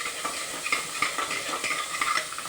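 Sliced onion sautés in a pan for a Kerala-style curry, a close, steady sizzle broken by repeated light scrapes and clinks of a spoon stirring.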